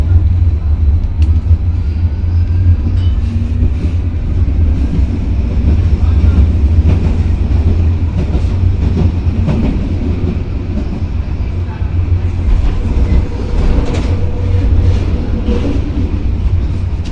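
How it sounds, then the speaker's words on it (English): A tram-train on a former railway route rumbles loudly as it accelerates, a steady heavy rolling roar with rattles and clunks heard from on board. "This tram accelerates very fast and goes round the bends very fast."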